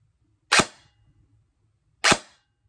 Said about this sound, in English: Look at how lightly I have to pull the trigger for it to shoot.